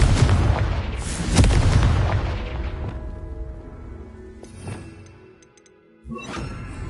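A Confringo blast spell explodes in Hogwarts Legacy: a loud, booming burst that rumbles and decays over a few seconds, followed by smaller crackling impacts and a second thump near the end.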